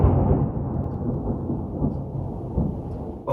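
Low thunder rumbles through a long rolling peal outdoors, fairly loud and close, fading slightly toward the end with no voices.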